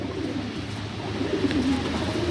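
Soft, low cooing of Madrasi pigeons, repeated murmuring calls close by over a faint background hum.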